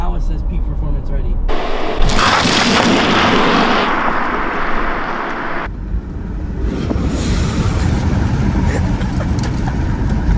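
A 2021 Tesla Model S Plaid is floored from inside the cabin, and a loud, steady roar of road and wind noise swells and holds. A person talks over it.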